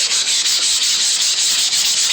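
Steady, rhythmic scratchy rubbing of sandpaper over an engine valve cover, close and continuous with no voices.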